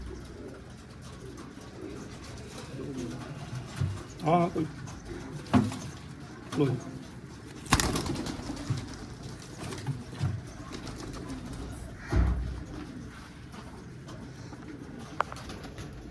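Pigeons coo softly in low, repeated bursts at close range, mixed with rustling, wing flutters and bits of conversation.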